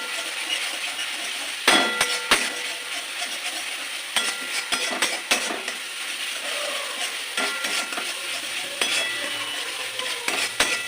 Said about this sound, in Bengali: হলুদ দেবো আমি এটা ভালোভাবে কষিয়ে দেবো